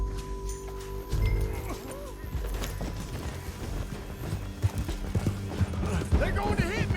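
Hooves of a horse in Red Dead Redemption 2 clip-clop in an uneven rhythm beneath game music and bustle, with a brief whinny and voices talking over them.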